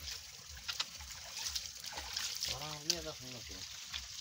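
Cold water runs and splashes from a tap as someone washes hands and face, a steady close trickle with a voice speaking briefly over it.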